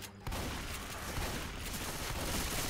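Gunfire in Left 4 Dead 2 on the Dark Carnival campaign, a dense continuous burst of rapid shots that starts abruptly after a brief quiet moment and stays loud and steady throughout.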